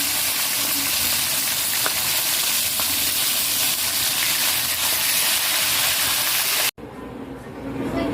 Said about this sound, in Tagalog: Guys, sinalang ko na po yung isda.